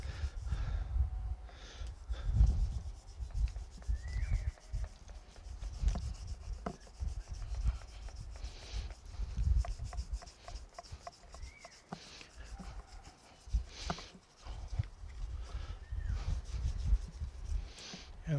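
Fine 7000 grit abrasive rubbed along guitar fretwires during a refret, a soft, steady scrubbing in repeated back-and-forth strokes, close and continuous with brief pauses.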